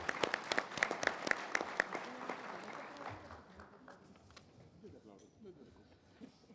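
An audience at a workplace health and safety forum applauds a panel speaker; brisk, close clapping lasts about three seconds, then thins out and fades as a voice begins talking.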